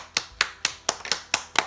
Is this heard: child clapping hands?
yes